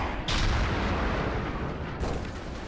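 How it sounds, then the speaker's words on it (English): A TOW missile launched in the game Battlefield Iraq: a loud, close blast followed by a broad rushing roar that carries on, then a second sharp burst near the end. "That tow missile was pretty effective and I'm happy with it."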